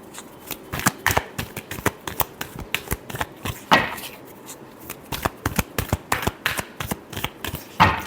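Tarot cards shuffled by hand in a rapid series of crisp riffling snaps and flutters, close and fairly loud, with one last shuffle at the end and no talking over it.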